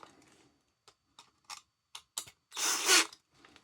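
Small screws being tightened on a Losi 22S RC car's 3D-printed lay-down transmission: a few light clicking ratchet ticks, then a longer scraping turn, close and quiet in a still room.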